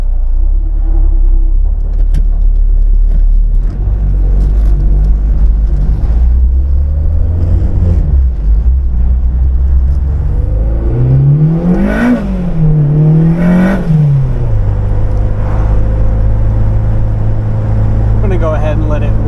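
A turbocharged Acura RSX engine warming up holds a loud rumbling idle, then gives a couple of quick revs that rise and fall before settling back to a steady drone.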